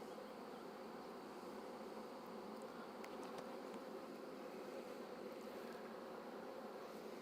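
Honey bees buzz loudly and steadily at an open hive during brood frame inspection, a dense, continuous hum close by with no talk.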